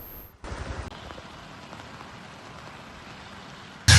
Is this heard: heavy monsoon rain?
yes